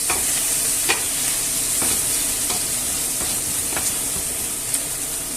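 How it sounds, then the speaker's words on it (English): Fried tomato sauce sizzling steadily in a paella pan with chicken and chorizo, a constant close hiss with soft regular scrapes of a spoon stirring roughly once a second. "I'll give this a mix about, just a gentle mix."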